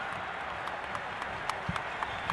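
Stadium crowd at an Ecuador vs Chile football World Cup qualifier, a steady wash of distant applause and cheering with scattered louder claps, all at an even level.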